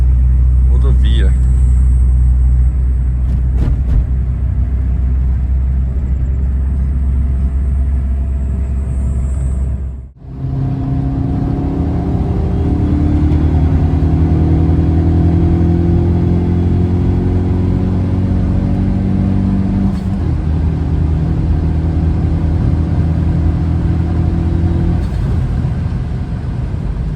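A Peugeot 208 GT with about 180,000 km cruises and then accelerates on a highway, heard from inside the cabin. A loud engine drone climbs in pitch as the revs rise, with someone talking over it.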